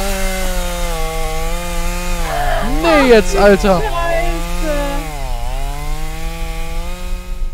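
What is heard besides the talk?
chainsaw in video game Escape The Backrooms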